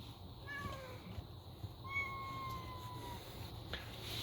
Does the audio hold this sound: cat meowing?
yes